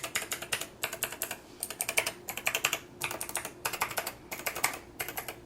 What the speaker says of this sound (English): Here's how they sound as a fidget. Just like a keyboard.